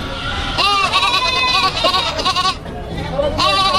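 A goat bleats several times in short wavering calls, close by at a livestock auction in Padre Garcia, with someone talking over and between the cries.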